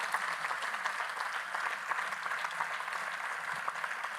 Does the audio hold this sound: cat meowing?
no